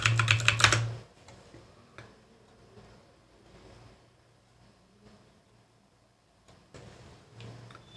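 A short, quick burst of typing on a computer keyboard enters a search on an image website, lasting about a second, then the room falls nearly silent apart from a few faint clicks.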